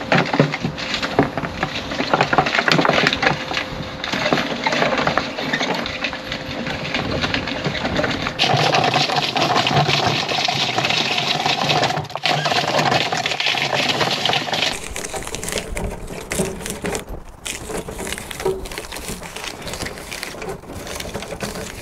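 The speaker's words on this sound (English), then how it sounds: "So my first lot of apples are now washed and chopped, and I'm going to start crushing them." Fresh, washed and chopped apples are crushed for cider, giving a continuous, dense, gritty grinding and mashing noise that runs close and steady throughout, shifting slightly in texture partway through.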